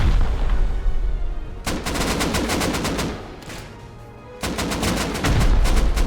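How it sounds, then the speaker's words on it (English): Automatic gunfire rattles in two long, loud bursts with a quieter gap between them during a base raid in the video game Rust, as defenders return fire at a breach team. "returning fire to the breach team as they try to push through"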